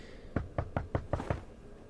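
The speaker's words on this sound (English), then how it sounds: "No, who is knocking?" A wooden door being knocked in The Wolf Among Us game, six crisp evenly spaced raps in quick succession, close and clear with nothing else over them.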